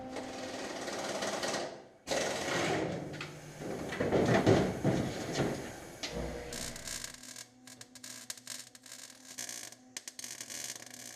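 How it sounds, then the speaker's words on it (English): Welding on the lower chassis of an Audi Sport Quattro replica: a steady, close crackling buzz that cuts out briefly near the two-second mark, then carries on in a rougher, sputtering pattern. No voices. "let's weld this section in so we can move downward"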